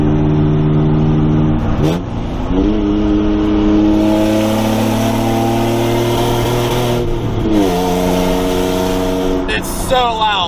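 A loud JDM car engine with open headers accelerates hard, its pitch climbing steadily and dropping sharply at two gear shifts before climbing again, close and roaring.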